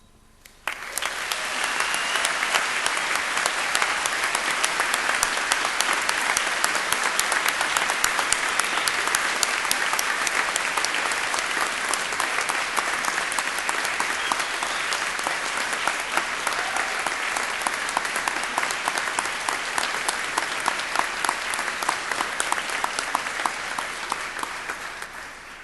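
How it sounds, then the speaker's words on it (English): A graduation ceremony audience at Cardiff University applauds families and friends, sustained loud clapping from a large crowd in a hall, steady and dense for over twenty seconds before it cuts off. "giving them all an enthusiastic round of applause"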